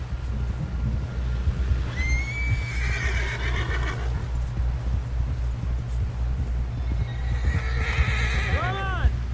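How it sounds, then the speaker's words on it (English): A horse in the video game Red Dead Redemption 2 neighs loudly, a long shrill whinny, then another whinny near the end, over steady hoofbeats and a low rumbling background. "Someone help John down off this horse."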